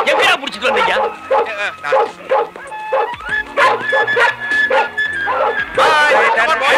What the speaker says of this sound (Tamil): புது நாய் இழுக்குது.